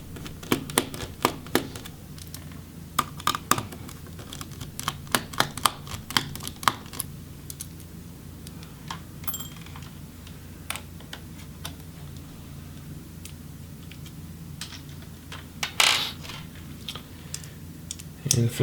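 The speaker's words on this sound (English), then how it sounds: "now we can go ahead and remove the hinge screws to finish freeing the motherboard" Small screwdriver clicks and ticks come in sharp irregular bursts while hinge and motherboard screws are removed from an Asus Vivobook S510U laptop, with a person talking quietly underneath.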